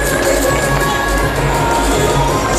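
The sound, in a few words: people clapping to encourage athletes at a track meet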